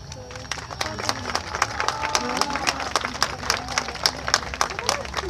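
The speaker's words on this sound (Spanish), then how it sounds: "yo les pido un fuerte aplauso" A crowd at a Mexican charrería event for the festival of the Señor del Calvario breaks into applause, a sharp irregular clatter of claps with crowd murmur and some talking beneath.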